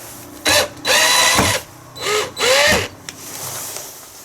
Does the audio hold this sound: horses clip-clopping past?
no